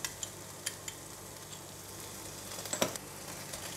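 Sesame oil and oyster sauce sizzle and get stirred in a hot wok for kam heong prawns, a faint steady frying hiss broken by soft scraping clicks of the spatula, close and without voices.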